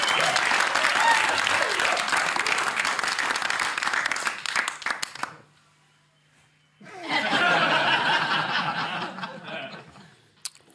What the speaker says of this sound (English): That's some... post-Easter applause right there.